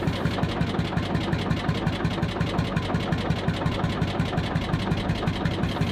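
A big single-cylinder two-stroke Lanz Bulldog tractor engine chugs steadily, a fast even thumping beat held for several seconds with no talking.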